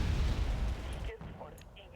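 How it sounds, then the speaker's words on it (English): Heavy booming blasts of mortar rounds pounding a forest in the Wargame Red Dragon strategy game open loud and low, then fade into scattered thinner crackles. "And there's a mortar assault on the forest."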